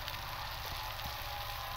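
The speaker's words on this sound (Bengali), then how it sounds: "আমি মাছগুলো দিয়ে দিচ্ছি সব।" Tangra fish frying in a spice masala of cooked-down tomatoes, a steady, soft sizzle of hot oil throughout with no talk.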